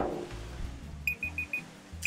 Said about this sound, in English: Oh, you hear that? That's a timer for 5 minutes, folks.